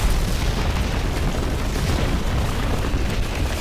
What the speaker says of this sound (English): the Germans have responded with rockets